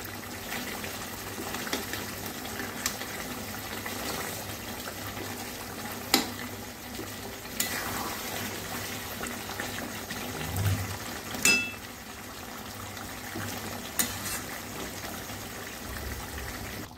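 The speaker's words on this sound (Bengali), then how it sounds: "ভালোভাবে নাড়িয়ে দিচ্ছি, মানে অনবরত নাড়াচাড়া করতে হবে" Thick cashew gravy bubbles softly in a pan as a spoon stirs and scrapes now and then, quiet and close.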